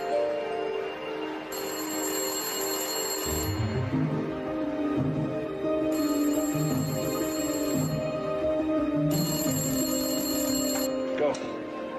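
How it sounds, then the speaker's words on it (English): A telephone rings in repeated bursts, three long ringing spells with pauses between, over a steady background of music and ambience, mid-loud and continuous. "Find the phone near the clock. It's going to ring in 30 seconds."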